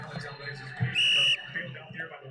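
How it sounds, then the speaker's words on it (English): A referee's whistle at a USA versus Mexico CONCACAF final soccer match gives one sharp, steady blast of under half a second, heard over a match commentator talking and a low stadium murmur. "A whistle."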